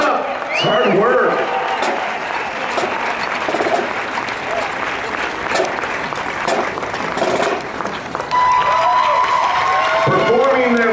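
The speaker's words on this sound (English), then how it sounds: "Give him another round of applause." Sustained applause and cheering from a crowd at an outdoor marching band competition, a loud continuous roar of clapping with shouts on top, and an announcer's voice talking over it.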